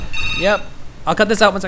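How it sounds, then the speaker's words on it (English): A telephone bell rings once in a short harmonic burst at the start of a Fallout 4 play session, followed by someone speaking close to the microphone. "God, a phone call. That scared me."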